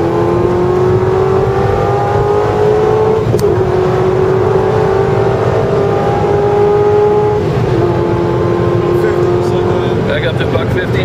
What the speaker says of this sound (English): Now we're just showing the launch control.